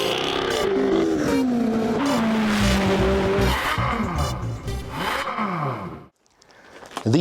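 A Ferrari 812 Competizione V12 driven on the road, engine loud and close as it revs and shifts through gears with rising and falling pitch, cutting to near silence before building again.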